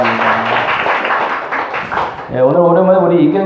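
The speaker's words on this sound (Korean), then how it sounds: "다시 한번 박수해 주시기 바랍니다" Applause fills a Sunday worship service at a small Korean church for three performers, a deacon and two young people, coming forward to sing. Steady clapping runs for about two seconds, then gives way to sustained voices or music.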